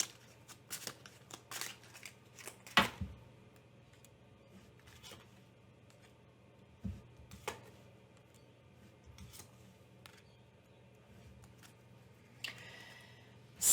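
Cards are shuffled in a quiet room: scattered crisp riffles and snaps separated by pauses, with a low steady hum underneath.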